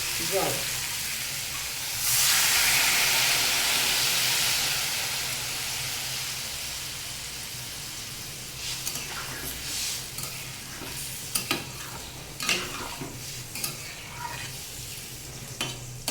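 Water poured into a pan of frying mixed vegetables sets off a loud hissing burst that gradually dies down, followed by a softer sizzle with sharp clatters of stirring.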